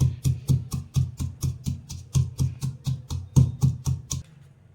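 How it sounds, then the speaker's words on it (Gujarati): Garlic and salt pounded by hand, heard as about eighteen evenly spaced, close, thudding knocks with a brief clicky edge, followed by a short quiet tail and no voices. "હવે આ રીતના આપણે થોડું લસણ ટીચી કાઢીએ"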